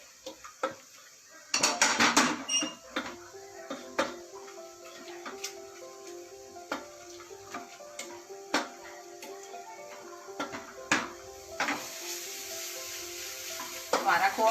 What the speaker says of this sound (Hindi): हमारा खोआ भुन गया है,